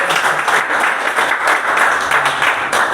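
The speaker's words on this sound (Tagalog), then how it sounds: "Palakpak." Audience applause at a discipleship training session, a steady, dense wash of clapping that holds at full level for the whole stretch with no voices over it.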